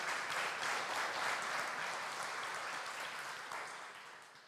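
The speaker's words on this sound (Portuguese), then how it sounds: "Vamos aplaudir poderosamente a palavra de Deus" A church congregation claps together during a service, a steady, dense roar of hands that holds strong and then gradually fades toward the end.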